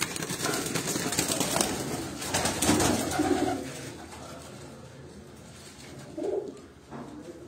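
Soft, low pigeon coos from a rooftop murmur through a dense wash of outdoor noise and rustling, with a couple of clearer coos near the end.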